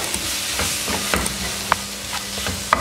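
Spice powders of garam masala, chilli and coriander being stirred into squid roast masala in a pan, a steady soft sizzle with scraping strokes and a few sharp clicks of the spoon against the pan.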